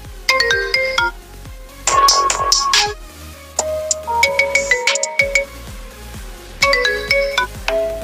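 On a mobile phone, an iPhone ringtone plays as a busy melodic sequence of bright plucked and chiming notes, with a dense shimmering flourish, a brief lull, then further tinkling runs, clear and close throughout.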